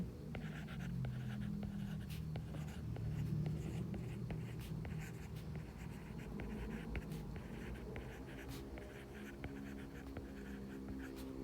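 Pen or pencil scratching across paper while working a grade 3 math exercise on weight, a steady continuous writing texture over a low background hum with no speech.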